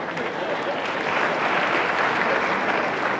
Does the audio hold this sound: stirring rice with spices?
no